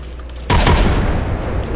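A frag grenade blast in the shooter game Apex Legends bursts in loudly, a heavy boom followed by a dense roar of gunfire that keeps rumbling close and steady to the end.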